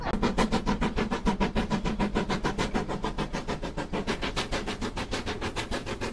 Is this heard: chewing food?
no